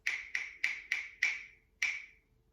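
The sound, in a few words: rhythm pattern tapped on rhythm sticks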